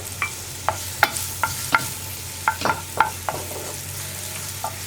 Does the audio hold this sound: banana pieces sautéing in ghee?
yes